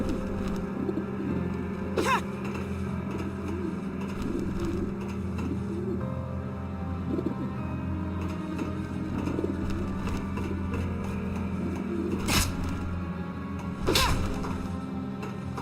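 Pigeon enemies in the game Fragile Dreams, soft repeated cooing over a low hum, with a few sharp thumps and wing-like bursts spaced through the quarter minute.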